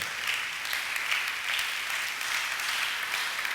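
Church congregation applauding at a Sunday service, a dense steady patter of many hands clapping together, moderately loud and continuous throughout with no pause.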